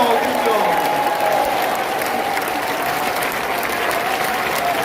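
A church congregation gives a big round of applause at a Purim service, a dense, steady wash of clapping from many hands that holds loud and even throughout.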